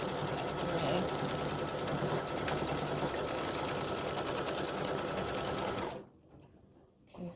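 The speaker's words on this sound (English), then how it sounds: "it's going to stitch out the brim of the hat, do the placement stitch" An embroidery machine stitches the placement outline for an appliqué gnome hat brim, a rapid, steady mechanical chatter close by that stops abruptly near the end, followed by quiet handling noise.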